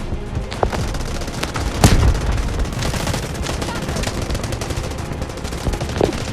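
Delta Force video game gunfire: rapid bursts of shots crackle and thump, with a few heavier booming reports standing out, busy and continuous over the whole stretch with no talking.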